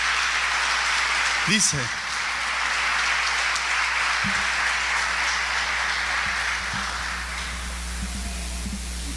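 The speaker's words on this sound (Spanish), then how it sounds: "¿Por qué no le das un fuerte aplauso al Señor?" Sustained applause from a church congregation fills the hall steadily, with a brief spoken word near the start and scattered voices underneath.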